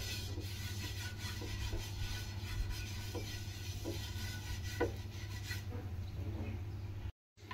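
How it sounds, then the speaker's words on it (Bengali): Oil brushed onto a hot frying pan over a gas flame, a soft steady rubbing rasp with faint repeated strokes, close and quiet, with no voices. "এবার আমি একটু তেল ব্রাশ করে নিচ্ছি।"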